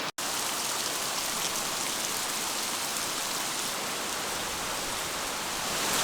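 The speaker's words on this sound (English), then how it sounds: "it's been raining really hard" Heavy rain pours steadily over a campsite, a loud, dense, unbroken hiss of drops close by with no voices.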